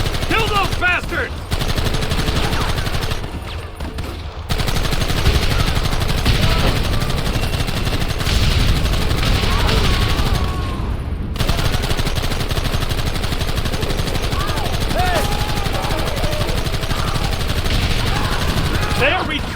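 Sustained gunfire rattles through a Red Dead Redemption video game battle, loud overlapping rifle and rapid shots continuing almost unbroken for nearly twenty seconds, with shouting voices mixed in.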